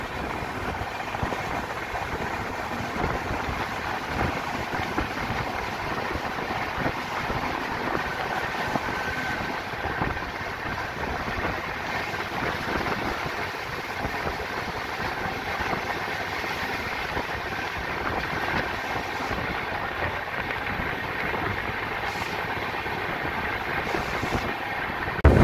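An LHB-coach passenger train running at speed on the Chennai–Coimbatore route, heard from inside as a steady, continuous rumble and rail noise that holds level for the whole stretch.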